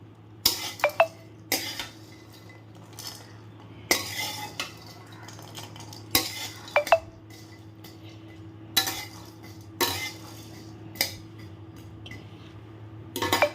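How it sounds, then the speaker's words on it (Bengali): Raw peanuts with cardamom and black pepper dry-roasted in a pan, a spoon scraping and clinking against the metal in repeated bursts every couple of seconds, fairly close over a low steady hum. "একসাথে একটু শুকনো খোলাতেই ভেজে নিলাম।"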